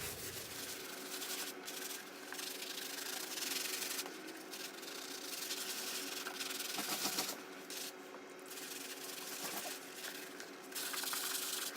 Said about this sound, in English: take my shoe and scrub